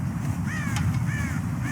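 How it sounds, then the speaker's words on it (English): Crows caw in Red Dead Redemption, a few short harsh calls over a steady low rumble, moderately near with no talking. "God damn crows!"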